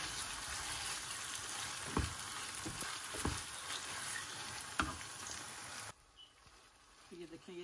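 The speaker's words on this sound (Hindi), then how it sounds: "इसको अच्छे से मिक्स करेंगे।" Pasta bolognese ingredients sizzle and fry in a pan in ghee while a spoon stirs them with a few scraping knocks; the frying stops abruptly near the end, leaving faint clinks.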